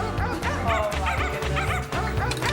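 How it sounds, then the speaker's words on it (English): Several dogs bark and yip excitedly while racing toward food during a backyard dog taste test with yoghurt and fish, with short whimpers mixed in; the barking is close and continuous, and a voice cheers faintly underneath. "Release the dog! Go dogs!"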